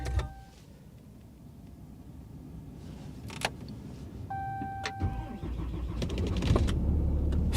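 A diesel Corvette's engine cranks and catches in freezing weather after a preheat pause. An electric whir and faint clicks come first, then the idle builds into a low, steady rumble that grows louder toward the end.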